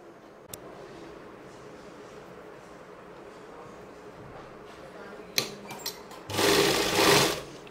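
A sewing machine stitches fabric for a pregnancy dress, quiet handling at first, then a short run and a louder whirring burst near the end, close by and alone without talk.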